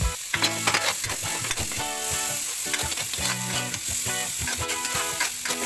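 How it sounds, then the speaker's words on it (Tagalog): Garlic and onion sautéing in a pan, a steady close sizzle broken by repeated scraping stir strokes, with no talking. "At halu-haluin lang po natin ito hanggang sa maging golden brown konti. At pagkatapos ay yung ating sibuyas."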